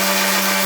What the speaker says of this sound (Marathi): आता हे मिक्सरला फिरूया आधी.